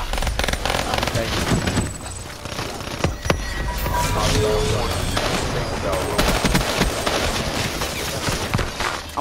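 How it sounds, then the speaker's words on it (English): Explosions and rapid gunfire in the shooter game Call of Duty: Black Ops III, a dense battle mix with one sharp blast near the middle, heard under players talking. "Grenade!"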